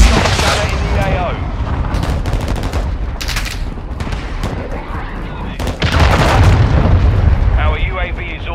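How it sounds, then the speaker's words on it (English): A cruise missile blast in a Modern Warfare 2 multiplayer match lands as a loud, booming explosion amid ongoing rapid gunfire and combat noise, with voices heard through the chaos. "Friendly cruise missile deployed."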